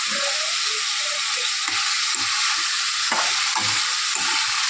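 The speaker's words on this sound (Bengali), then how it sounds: "আলুটা ভেজে নিই" Potatoes frying with onion, garlic and dried chili in a home kitchen pan, a steady close sizzle with occasional stirring scrapes and taps, no voices.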